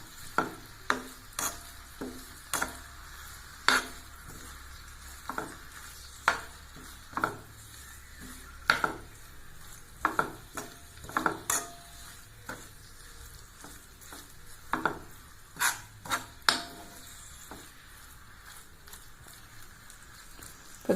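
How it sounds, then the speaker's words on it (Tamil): Rose petals stirred and sautéed in a pan over a low flame for gulkand, with a soft continuous sizzle broken by repeated sharp scrapes and taps of the spoon against the pan. "அடுப்பை சிம்மில் தாங்க வச்சு நல்லா வதக்கணும்"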